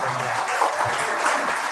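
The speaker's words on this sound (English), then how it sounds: "Let's give them a round of applause." Audience at a Giles County election debate night clapping for the candidates, a short burst of steady, fairly close applause.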